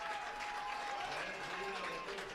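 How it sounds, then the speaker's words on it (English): High school football fans at Bank of Kaukauna Stadium, Kaukauna High School, applaud and cheer at halftime, a steady, fairly distant crowd wash with voices talking over it. "with a cheer of approval as we hit halftime here at Bank of Kaukauna Stadium"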